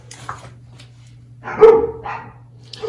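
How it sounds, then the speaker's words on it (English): Dogs bark a few times from a distance indoors, loud sharp yelps standing out against a steady low hum and quiet background. "You can hear the dogs going crazy."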